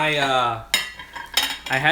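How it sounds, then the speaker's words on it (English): Ceramic plates and metal cutlery clatter and clink in a home kitchen while a meal is being plated, with sharp bright impacts rising over a sustained tonal hum. "Grab some plates."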